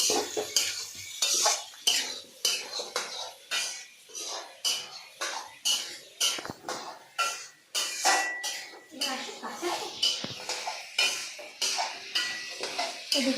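Rice and water being stirred in a cooking pot, with rapid repeated scraping and clanking of a spoon against the metal, loud and rhythmic in bursts, while a person talks intermittently.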